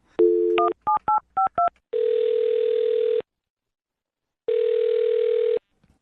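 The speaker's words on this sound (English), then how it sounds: "I'm going to dial her phone number right now." A telephone number is dialed as a quick run of seven touch-tone beeps, followed by two long ringback tones separated by a pause, clear and close on the line.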